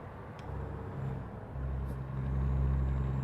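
Heavy truck engine in Euro Truck Simulator 2, driving at top speed with a steady low drone that swells slightly as it continues, no talking.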